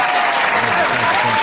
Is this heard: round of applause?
yes